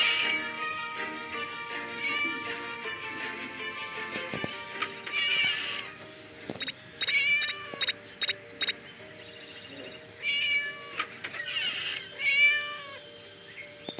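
Repeated cat meows from the Scary Teacher 3D video game, several short whiny calls in the middle and late part over a busy game soundtrack and background effects, no talking.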